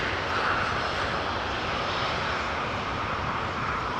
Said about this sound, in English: We've got a 777 that is going to take off to Paramaribo.